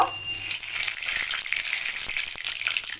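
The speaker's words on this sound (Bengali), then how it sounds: "এবারে আমি তেলেতে তেজপাতা দেব" Bay leaves hit hot oil in a pan while cooking mutton with pumpkin, giving a steady, loud hissing sizzle that runs throughout with a few faint clicks on top.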